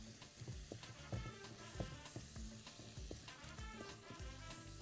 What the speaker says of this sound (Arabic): بصوا اهي بقلبها، بتخلي كل الايه اللحمه تلون معايا كلها